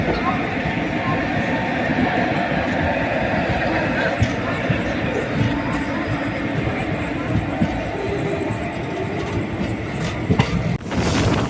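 The Alleppey Superfast Express passenger train rumbles steadily past at close range, with a constant rolling roar and rhythmic clatter of wheels on track, ending in a rushing burst.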